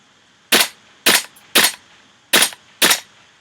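Five sharp semi-automatic shots from a WE SCAR-L MK16 airsoft rifle crack out close by, spaced unevenly about half a second apart, each a crisp snap with a short metallic tail.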